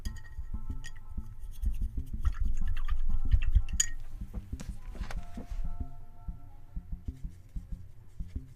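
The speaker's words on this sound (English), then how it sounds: "let's just clean these brushes" Paint brushes are cleaned with close, brisk scrubbing and scratching strokes in bursts, followed by lighter taps and clicks as the rubbing winds down.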